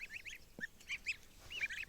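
A goose honks repeatedly in short, nasal bursts, several calls in quick succession, fairly close and clear against a quiet background.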